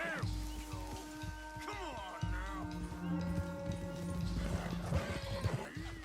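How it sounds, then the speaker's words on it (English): Hooves clip-clop steadily while an Arabian horse whinnies with rising and falling calls in Red Dead Redemption, accompanied by game music and low background effects. "And now I have to catch this Arabian horse."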